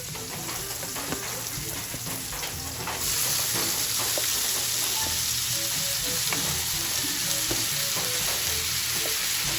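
Bitter gourd (ampalaya) sautéing and being stirred in a pan at home for a breakfast dish with egg, a steady loud sizzle with scraping stir noises that swells as the vegetable goes in, no talking.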